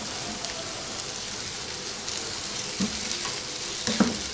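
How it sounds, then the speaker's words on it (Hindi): Rice being stir-fried and mixed into egg fried rice with spices in a hot pan, a steady close sizzle with a few scraping stirs of a utensil, no voices. "अब इसमें थोड़े थोड़े करके राइस शामिल करें और उनको मिक्स करते जाएं।"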